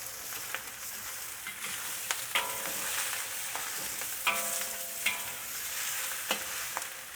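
Fresh or dried rice noodles with garlic stir-fried in a wok, a steady bright sizzle broken by sharp spatula scrapes and taps against the metal every second or so, close and loud.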